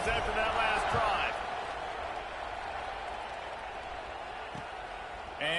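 A stadium crowd roars in a college football video game, Tennessee against Alabama, before a kickoff: a steady, distant wash of cheering, with a louder swell near the start and again at the very end.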